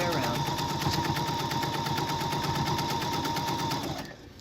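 A domestic sewing machine stitches in the ditch around a quilt-as-you-go trivet's binding, giving a steady, rapid close mechanical rattle that runs evenly for about four seconds and then stops.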